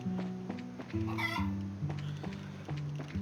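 Chickens cluck in a village in the video game The Legend of Heroes: Trails of the Sky, a run of short bright clucks over a looping game music bed, moderately close.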